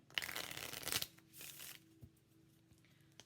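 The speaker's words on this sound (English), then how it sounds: "We're going to use the Island Time Wellness cards to further clarify" Island Time Wellness oracle cards being shuffled close by: a dense, riffling flutter for about a second, then a softer burst of card handling and quiet shuffling.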